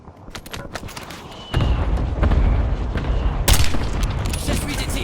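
Precision airstrike in Warzone, a series of heavy booming blasts and crackling gunfire that swells suddenly and stays dense, with bursts of shots layered over rumbling impacts.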